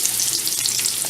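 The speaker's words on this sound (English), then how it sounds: "cooking bacon." Bacon frying in a pan gives a loud, dense, steady sizzle with crackling pops throughout, close up and with no voices.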